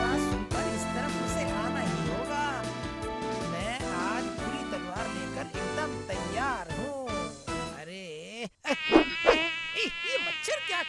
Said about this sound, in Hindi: ये मच्छर क्या कर रहे हैं? जाओ यहाँ से।